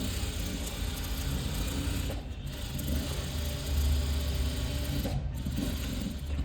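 A sewing machine stitches a fully lined blouse, its motor whirring steadily with a fast rhythmic needle clatter, close and continuous, dipping briefly twice as the stitching pauses.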